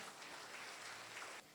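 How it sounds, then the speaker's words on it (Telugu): Crowd applause fills a church during a golden jubilee mass for a Holy Rosary Mother church in Yellandu, Khammam, a steady dense clatter of many hands that drops off sharply near the end. "చప్పట్లు కొడదాం."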